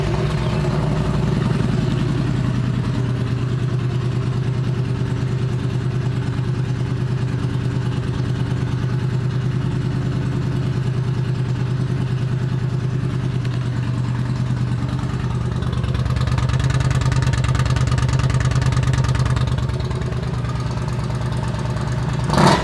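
A 2012 Yamaha V-Star 950 motorcycle with a 2-into-1 Vance & Hines exhaust idles close by, giving a steady low, throbbing engine note that swells slightly midway, with no talking.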